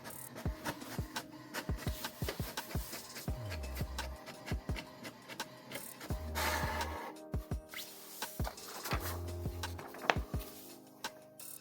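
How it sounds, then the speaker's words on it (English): A new HP Smart Tank 7602 inkjet printer runs its first test page, with rhythmic mechanical clicks, whirring feed motor passes and short low hums repeating close by for several seconds. "Here comes our first test print."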